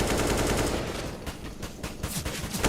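Rapid automatic gunfire from a Counter-Strike match on the map Ancient, pro esports play, a dense burst of shots that continues as more spaced cracks, loud and close with no talk over it.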